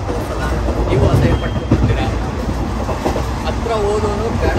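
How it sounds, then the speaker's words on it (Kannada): Moving train on Indian railway tracks from Varanasi to Ayodhya, heard from near the carriage door: a steady loud rumble and rattle of the wagon, with a voice talking over it. "ಟ್ರೈನ್ ಹೋಯ್ತಾ ಇದ್ದೆ"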